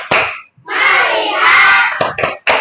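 Children in an Indonesian classroom do a rhythmic focus clap, with a sharp burst at the start, a long stretch of loud group clapping and cheering, then a few quick separate claps at the end.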